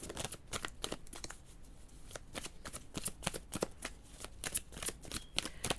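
Tarot cards are shuffled close up in a quiet room, a rapid run of crisp riffling flutters and slaps repeating unevenly for several seconds.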